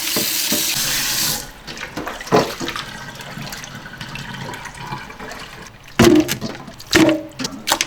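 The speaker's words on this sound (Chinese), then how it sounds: "我们给它稍微冲洗一下哈。" Kitchen tap running over beef steaks being rinsed before braising, a steady close rush of water at first, then quieter splashing and handling with a few sharp water bursts, no talk.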